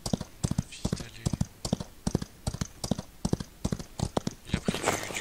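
Horse hoofbeats from the Western video game Outlaws of the Old West, a steady, fairly loud clip-clop gallop with sharp repeated strikes throughout.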